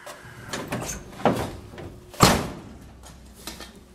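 A car door is closed during dash end cap and door speaker work, with a firm thump around the midpoint, surrounded by lighter clicks and rattles of trim and handling nearby.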